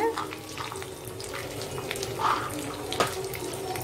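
Chana dal, green chilli and peanuts frying in oil for mustard rice, a steady close crackling hiss with a few sharper pops and clinks, no speech over it.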